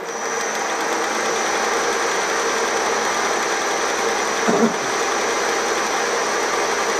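A 16U04P lathe turns cam jaws at higher spindle speed, giving a steady high-pitched motor whine with constant hum and a brief clunk partway through.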